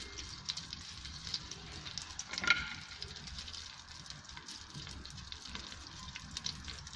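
Spoonfuls of flour cook in butter and oil in a pan for a roux, giving a soft, steady sizzle with faint stirring close by and no talk.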